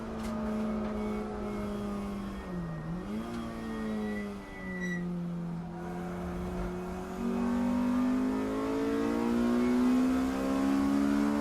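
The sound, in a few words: race car passing on Snetterton circuit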